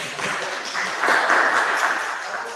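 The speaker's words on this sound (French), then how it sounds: "Oh, vous pouvez vous applaudir, hein" Applause from the audience at a remote event on human permaculture. A steady wash of clapping runs through the whole clip and swells a little midway, with no voices over it.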